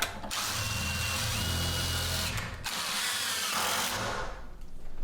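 A power drill whirs in close, sustained bursts as it drives screws during a shower installation, with a short break between runs and no voices.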